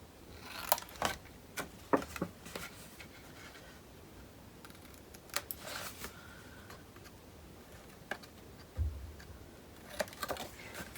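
Scissors snip the corners off paper pieces for a handmade wedding mini album, a few sharp isolated clicks and cuts spaced irregularly in a quiet room with no talking.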